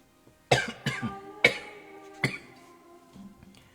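Three or four sharp, harsh coughs spaced about a second apart, fairly close, followed by quiet breathing.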